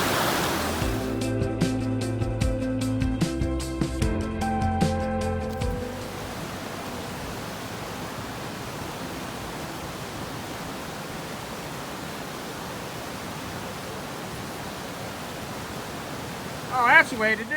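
A rushing river along the Pacific Crest Trail gives a steady broadband roar, nearby and fairly loud, after an opening stretch of rustling and clattering handling noise, with a brief sharp sound near the end.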